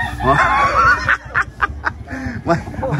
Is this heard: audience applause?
no